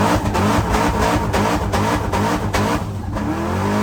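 V8 race cars rev and roar at a race, a loud, continuous, dense engine din with pulsing bursts of acceleration.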